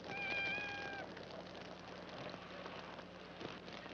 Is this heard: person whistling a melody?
no